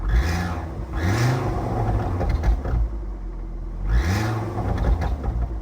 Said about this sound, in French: le bruit strident et pas du tout agréable, c'est le joint de turbo qui a une fuite